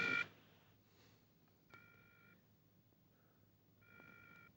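Telephone dialing from a film scene: a short burst of tones, then repeated electronic ringback beeps on the line as the call goes unanswered, faint and alone.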